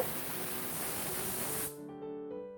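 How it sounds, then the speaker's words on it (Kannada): A pressure cooker steams while spinach sambar cooks, its whistle a loud, steady broadband hiss that cuts off sharply near the end, leaving quieter kitchen tones. "ಮತ್ತೊಂದು ವಿಷಲ್, 2ನೇ ವಿಷಲ್ ಕೂಗ್ತಾ ಇದೆ."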